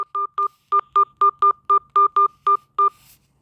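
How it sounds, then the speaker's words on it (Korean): A phone number entered on a telephone keypad while calling a mobile number-porting service: eleven sharp DTMF beeps in quick, slightly uneven succession, close and clear with no speech. "고객님의 이동 전화번호 10자리 또는 11자리와 우물정자를 눌러주십시오"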